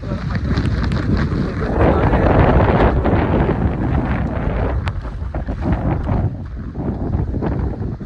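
Loud, gusty wind roars against the microphone over rushing water at a waterfall in Maharashtra, with spray blown upward, buffeting continuously throughout.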